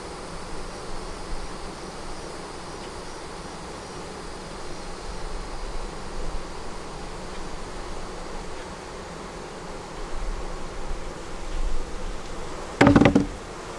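Honey bees hum steadily at a double-deep hive with a honey super, a soft continuous buzz throughout, ending with a brief loud knock or clatter near the end.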